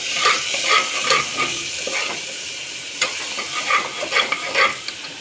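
Ingredients sautéed and stirred in a pan while cooking biryani, a steady frying sizzle broken by repeated scraping stir strokes, close and clear with no talk.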